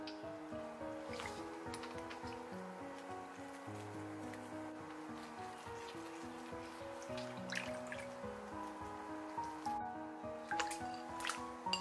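Shiitake mushrooms sloshed and rinsed in a bowl of clean water, with steady dripping, trickling and wet squishing sounds throughout, close up and moderately quiet, with no talking.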